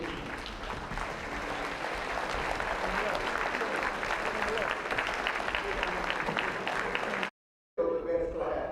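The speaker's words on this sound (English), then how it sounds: "stand once again and receive a deserved round of applause" A banquet audience applauds a class of 1966 at a school reunion, sustained even clapping from many hands that cuts off abruptly near the end, followed by a brief return of room sound.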